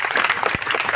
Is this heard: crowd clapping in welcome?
yes